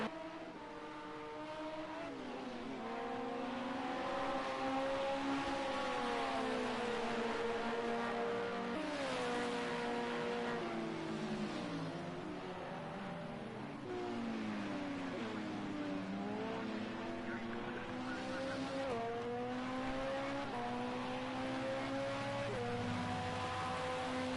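Race cars at the Le Mans circuit roar past on a dry track, engines rising and falling in pitch as several cars pass in waves, continuous and moderately distant with no talk.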